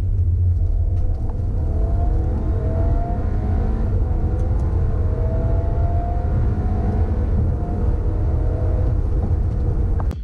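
Golf GTI-engined 245hp Audi Q5 Quattro accelerating hard through a 30 to 70 mph sprint, a steady rumbling engine drone with rising whine, heard from inside throughout.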